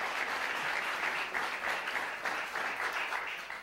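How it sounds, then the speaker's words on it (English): Sustained audience applause at a Penn State football celebration, a dense, even roar of many hands clapping that stays loud and steady before easing slightly at the end. "it's all right, you can applaud."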